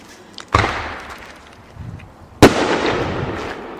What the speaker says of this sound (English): Some years there's lots and lots of fireworks getting shot off.